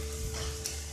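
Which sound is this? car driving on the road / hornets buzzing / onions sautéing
onions sautéing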